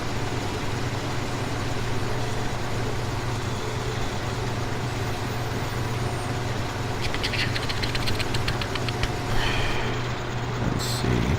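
Low, steady drone of a small tractor engine in a Canadian farming video game, running continuously with a few faint clicks partway through.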